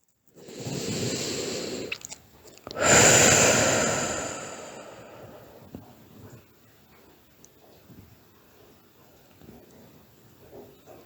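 A long, deep breath is drawn in close to the microphone, then released in a slow, airy exhale that fades gradually, followed by quiet, soft breathing.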